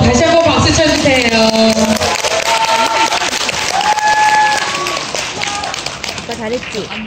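An audience claps loudly and continuously after a fan dance performance, a dense crackle of hands with cheering voices over it, gradually thinning toward the end.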